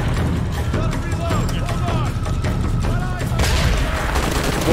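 Incendiary-round gunfire in the video game Shadow of the Tomb Raider, a dense loud battle soundscape with booming shots and chaotic fusillade throughout, voices and game speech mixed in.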